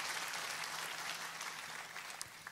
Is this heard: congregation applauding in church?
yes